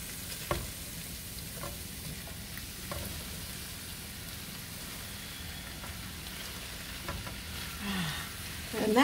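Napa cabbage sizzling and frying in a hot pan, a steady soft crackle throughout with a few stirring clatters and a louder scrape near the end, no voices.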